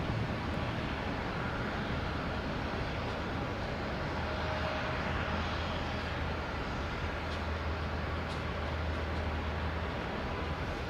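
An American Airlines airliner lined up on runway 22 Right at Boston Logan Airport gives a steady, distant jet rumble. The drone hangs under broadband airport ambience without a clear rise or pass.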